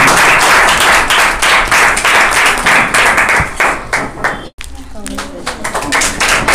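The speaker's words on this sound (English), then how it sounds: "Give a big round of applause to her." An audience claps for a star of the week award winner at a monthly rewards and recognition ceremony, loud close dense clapping that breaks off abruptly, followed by quieter room sound and talking.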